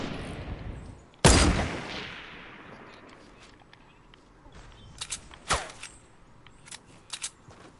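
Video game gunfire: one loud, sharp shot rings out and fades slowly. Seconds later a cluster of lighter pops and another crack follow. No voices.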